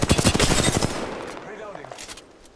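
Rapid automatic gunfire in Apex Legends, a dense burst of close, loud shots for nearly a second that tails off into quieter scattered pops and game effects.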